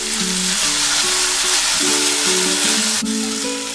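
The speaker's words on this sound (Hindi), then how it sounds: "सॉसेस डालने के लिए सबसे पहले हम डालेंगे चिली सॉस।" Chili sauce hits a hot pan for veg Manchurian, giving a loud, continuous sizzle and frying hiss close up, with no talking.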